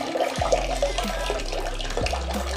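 Hot water runs steadily from the tap of a homemade instant water heater, a continuous splashing hiss with low background hum, close and fairly loud throughout.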